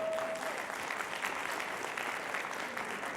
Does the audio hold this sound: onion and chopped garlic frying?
no